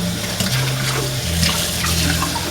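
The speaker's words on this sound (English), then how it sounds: "I usually just rinse it out." A used, brownish reverse osmosis filter is rinsed under running water, giving a continuous steady gush and splash from a tap with faint low hum underneath.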